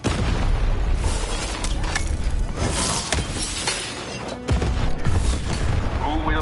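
A cannon fires in the video game Lost in Random, with a dense crashing, shattering burst and booming blasts layered over loud continuous game noise.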